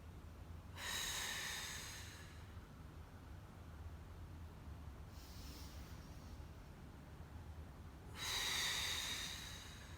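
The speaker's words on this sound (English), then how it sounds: "Breathe in and out." Deep breaths in and out taken while holding a V sit-up in a Tibetan Rites exercise routine, three airy rushes of breath spaced several seconds apart, close and fairly loud over a quiet background.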